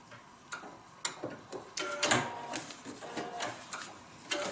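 Quiet, uneven mechanical tapping and clicking of a sewing machine putting in a few short bursts of stitches on a paper-pieced quilt block, with no voices.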